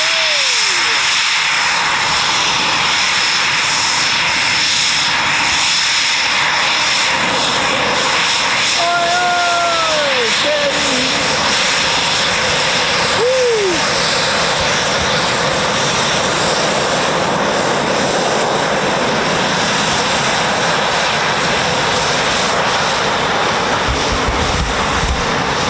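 Jet engines of an RAF Eurofighter Typhoon FGR4 taxiing, a steady broad roar with a rising whine, heard at a distance and fairly loud throughout, with no talk.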